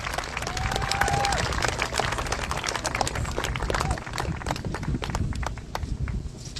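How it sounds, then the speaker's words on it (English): A crowd at the Manzanar Pilgrimage bursts into dense, sustained applause and clapping, with scattered cheers and voices mixed in, fairly close and loud throughout. "Give yourselves a round of applause."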